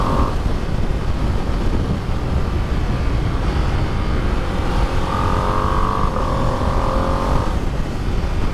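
A Ducati Panigale V2 motorcycle roars steadily while being ridden, its loud engine sound sustained and rising in pitch toward the end under constant wind rush.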